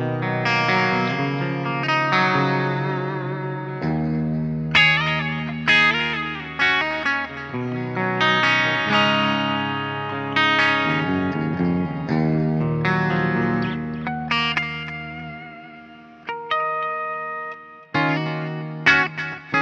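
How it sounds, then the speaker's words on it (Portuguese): A Carrozza Scarlett electric guitar played through its Custom 84 bridge pickup with chorus and distortion effects, a loud, continuous run of chords and single-note phrases with sharp attacks and brief pauses, no voices. "vou mostrar para vocês primeiro o captador da ponte, tá ok? Que é o Custom 84."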